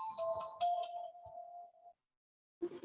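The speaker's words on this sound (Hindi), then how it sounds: "ऑफिस से फोन है" Phone ringtone for an incoming call from the office, a bright repeating melodic tone rising and sustaining for about two seconds, then silence before a short burst of noise at the end.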